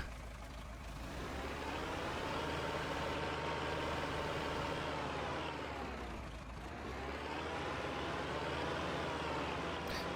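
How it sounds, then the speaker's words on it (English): A tractor engine running steadily in the farming game Farming Simulator 25, a continuous low diesel drone that rises and falls slightly in pitch as the machine works silage, with no voices. "Definitely enjoying using this tractor though, it is a special unit."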